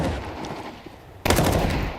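Desert Eagle shot in Counter-Strike: a single sharp, loud report cracks out after a quieter stretch of in-game ambience.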